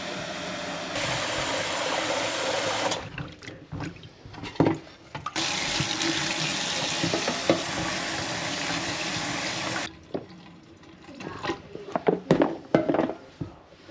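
Tap water runs hard into a sink while freshly pulled dandelion roots are washed, a loud steady rush that breaks off in the middle, returns, then gives way to scattered splashes and handling noises.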